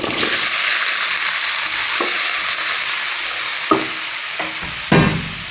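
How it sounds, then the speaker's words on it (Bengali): Vegetables go into hot oil in a pan for mutton biryani, raising a loud sustained sizzle with a few scraping stirs and clacks of a utensil toward the end. "তেল গরম হয়ে গেছে এবার আমি সবজিগুলো ঢেলে দেবো"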